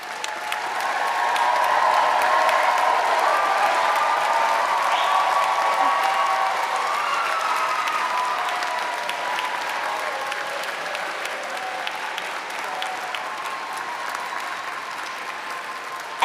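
A large commencement crowd claps and cheers for the graduates, the applause swelling to a loud, dense peak early and then slowly tapering off while staying continuous throughout.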